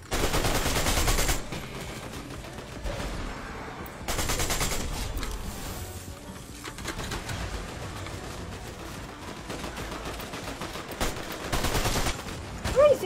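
Rapid bursts of automatic gunfire in a GTA-like video game, several loud volleys separated by short pauses, with a voice talking between the shots.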